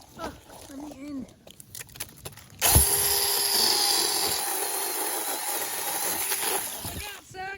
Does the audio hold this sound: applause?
no